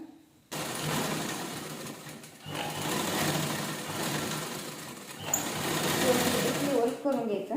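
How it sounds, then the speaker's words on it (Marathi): A sewing machine stitches fabric for a table cover made from leftover blouse pieces, starting after a brief pause and whirring steadily in close, continuous runs with short breaks. "आता बघा इथून आपण शिलाई करायला घेऊया"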